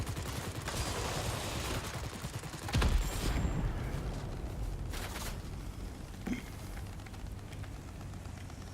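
Rattling machine-gun fire from World of Warplanes aircraft over a steady engine drone, with a louder burst and impact near the middle.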